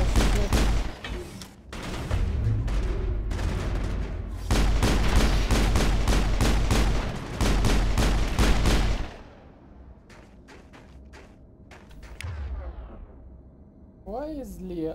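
Assault rifle fire in the Mass Effect video game, with dense bursts of automatic shots and heavy booms that come and go, followed by quieter stretches of sparse shots and whooshing effects; a voice is heard through part of it.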